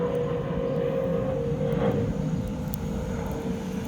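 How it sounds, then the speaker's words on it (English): An airplane passes overhead as a steady, moderately loud droning rumble with a constant hum, swelling slightly in the middle and staying fairly even throughout. "you're an airplane trying to interrupt this video"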